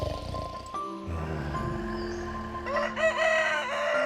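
A rooster in a farming video game crows at dawn, one clear drawn-out cock-a-doodle-doo rising near the end over a bed of mellow in-game music.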